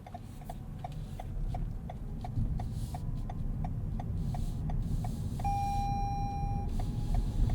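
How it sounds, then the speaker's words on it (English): The seatbelt warning chime of a 2021 Toyota Camry XSE Hybrid sounds as a steady series of short, evenly spaced beeps over cabin road noise, followed by a longer tone near the end. "Just to show you guys how our seatbelt warning sign notification sounds."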